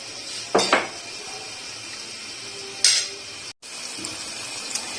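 Potato cutlets dipped in gram flour batter go into a pan one by one, with two sharp clinks of utensil against the pan and a soft steady background hiss.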